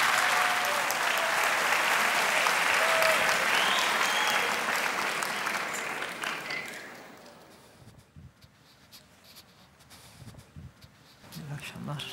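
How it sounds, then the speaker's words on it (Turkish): A TV talent show studio audience bursts into loud, sustained applause that fades after several seconds, then scattered clapping and voices resume. "Alkışlıyoruz."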